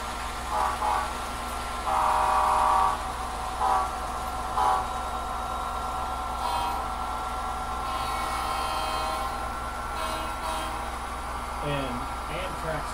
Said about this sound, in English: And Amtrak's horn, I've never bothered adjusting that yet.